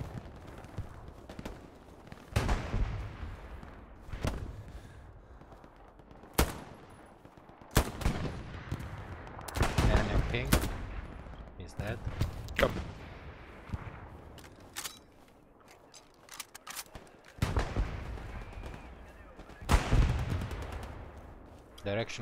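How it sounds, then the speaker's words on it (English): Machine gun bursts and scattered gunfire in a multiplayer war video game, sharp repeated volleys with distant booms, mixed under team voice chat throughout. "Yep. It's an MG."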